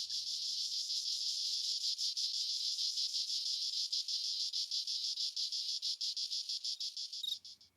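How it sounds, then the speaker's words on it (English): A loud, steady buzzing drone of cicadas in Provence during the day fills nearly the whole stretch with a fine pulsing texture, briefly fading near the end. "the never-ending soundtrack of the cicadas during the day"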